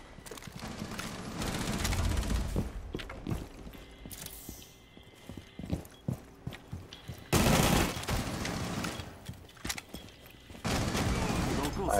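Gunfire in the Rainbow Six Siege video game, with loud bursts of shots including shotgun blasts, mixed with footsteps and game effects, while players talk over the action.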